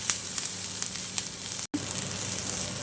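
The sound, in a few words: green chilli stir-frying in hot pan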